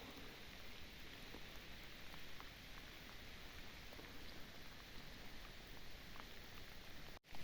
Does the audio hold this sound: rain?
yes